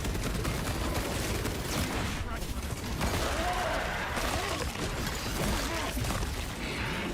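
Heavy bolter fire in a shooter game from the Helldivers-style Patch 10.3 missions, a dense continuous rattle of rapid shots with mechanical clanks, loud and close throughout, with faint voice under it.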